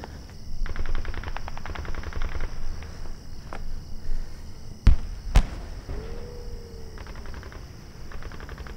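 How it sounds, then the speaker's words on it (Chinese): Distant gunfire in an anti-Japanese war film: two sharp, isolated cracks stand out close together over a faint, low rumbling background. "可枪声越来越细了呀"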